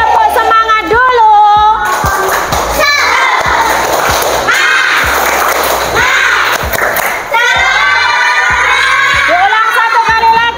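Primary school children in a class 3 lesson perform the rhythmic tepuk semangat clapping chant, loud group claps and thumps mixed with shouted voices and cheering, close and energetic.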